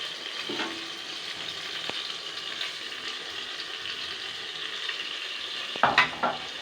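Ground masala paste of mint leaves sizzles and fries in hot oil for Ambur biryani in a pressure cooker, a steady crackle with occasional stirring scrapes and a louder clatter near the end; no talking.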